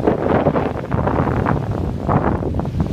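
A 20-knot southeast wind roars and buffets continuously over a whitecapped lagoon, loud and close, with no voices.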